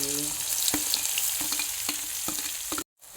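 Onion fries in oil in a pan for egg masala, with a steady close hiss and sizzle and regular spoon scrapes and taps about every half second, then a brief cut to silence near the end; no talk.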